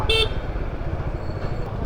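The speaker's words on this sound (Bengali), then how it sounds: "তিনবার হর্ন দেওয়ার পর আমাকে সাইড দিল" A vehicle horn gives one short loud toot in night city traffic, followed by a steady rumble of nearby engines and road noise.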